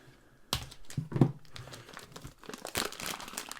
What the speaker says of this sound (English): So I usually just get the scissors, slice the plastic.